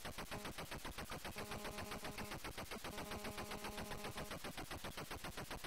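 Rapid automatic gunfire in the video game F16 Renegade rattles continuously in a fast steady stream, loud and dense, with a tonal hum running through parts of it.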